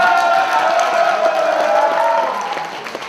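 Audience applause and cheering at a cosplay contest, a dense, steady wash of clapping from a crowd that carries on loudly throughout and tapers slightly at the end.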